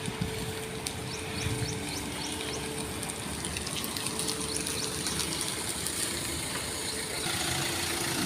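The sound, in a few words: Hyundai i20 Active 2016 car engine idling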